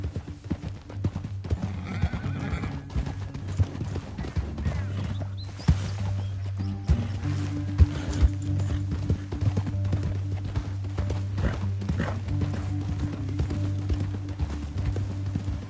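Horses clip-clop in the video game Red Dead Redemption 2, rhythmic hoofbeats with an occasional whinny over a low droning backdrop, brief speech faintly in the mix.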